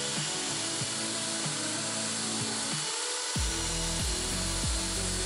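A steady, dense abrasive whir of a power sander on wood at a mountain camp runs continuously, with a brief dip in its low drone midway before resuming.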